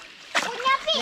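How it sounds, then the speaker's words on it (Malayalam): Small farmed fish from a home tarpaulin pond flop and splash in water in a few quick bursts, close and loud, with children talking over the splashing. "കിടന്ന് പിടയ്ക്കുന്നു ജോസൂട്ടൻ"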